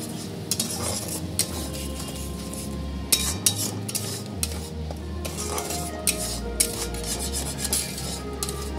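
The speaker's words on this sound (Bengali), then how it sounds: "এবার আমি ভালো করে মশলাটা পুরো কষিয়ে নেবো একদম" Spice masala being stirred and fried in a kadai, a spoon scraping and clinking against the metal pan in a steady rhythm over a low sizzle, close and alone.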